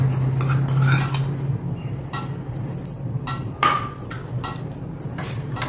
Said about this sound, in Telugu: ఇది కూడా ఉండలు లేకుండా చక్కగా కలిపేసేయండి.